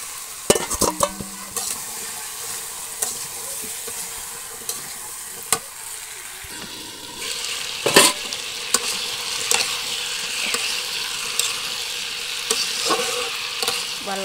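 Potatoes go into hot oil with fried chili and onion for a fish curry with yam, a crackling sizzle with repeated clanks and scrapes of a spatula stirring, growing busier midway, close and unaccompanied by voices.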